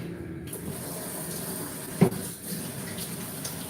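Tap water running from a faucet while hands are washed at a kitchen sink, a steady hiss with a brief splash in the middle, close and moderately loud.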